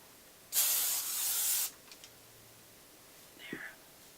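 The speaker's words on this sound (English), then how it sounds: "You have to hold it back because it sprays so straight." A spray bottle lets out one long close hiss of about a second, followed by a few faint clicks and small handling sounds.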